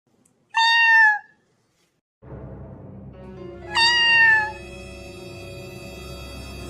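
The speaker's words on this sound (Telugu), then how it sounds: "ఉషా ఉషా, పిల్లి వచ్చింది" A cat meows twice, clear and close, each call a drawn-out wavering cry with a pause between; after the first meow a steady background hum starts and carries on under the second.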